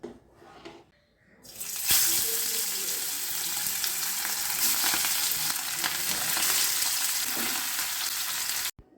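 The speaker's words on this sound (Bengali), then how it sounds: "এবার রান্না করি মাছ" Fish frying in a pan with a home-cooked Bengali meal: a quiet start gives way to a loud, steady hiss and crackle that carries on for several seconds before cutting off sharply.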